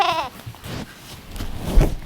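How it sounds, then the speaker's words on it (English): A goat in a barn gives a single short, wavering bleat up close, followed by quieter shuffling and knocking sounds. "Move it, goat."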